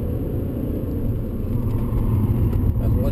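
Race car engine at full throttle on the Ahvenisto circuit, a steady, loud low rumble and drone holding constant for about three seconds with no breaks.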